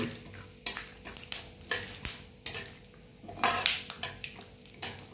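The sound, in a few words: sautéing onion, vegetables and peanuts in a pan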